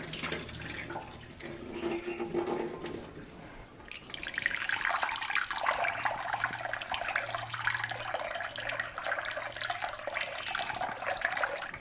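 Tap water runs steadily over lentils being rubbed and rinsed in a sink, starting soft and then turning into a louder, constant splashing stream after a few seconds, with faint handling underneath.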